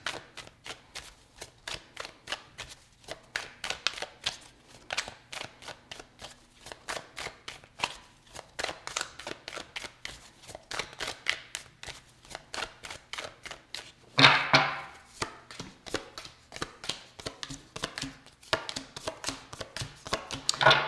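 A deck of tarot cards is shuffled by hand, close up, with a steady stream of soft riffling and slapping flicks lasting about twenty seconds and no talking.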